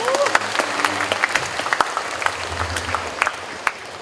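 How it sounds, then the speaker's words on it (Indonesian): Audience applause at an education launch event in Bandung, Indonesia: scattered, uneven clapping with sharp individual claps rather than a dense wash, and low murmuring voices underneath. "Kita tepuk tangan."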